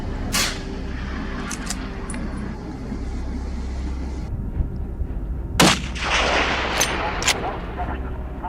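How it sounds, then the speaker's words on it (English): Distant gunshots crack and echo through mountains during a wild boar hunt, a few scattered early and a louder burst of several shots later, rolling reverberation over a low rumble. "Soon, gunfire echoed through the mountains."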